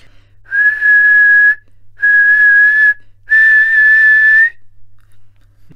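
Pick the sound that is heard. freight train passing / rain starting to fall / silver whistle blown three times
silver whistle blown three times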